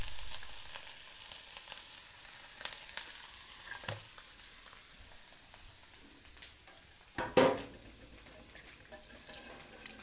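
Fish roe frying with onion in a pan, a soft, steady sizzle with a few brief scrapes and clinks of stirring, fairly quiet and close, with no one speaking.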